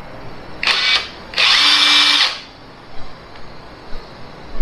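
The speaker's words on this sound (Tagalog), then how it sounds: "nakita niyo po yung binili kong impact wrench sa Shopee na Makita" A Makita impact wrench bought online runs in two loud close bursts, a short one and then a longer sustained whir, before falling to quiet room noise.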